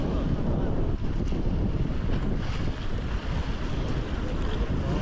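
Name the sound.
strong wind at the seaside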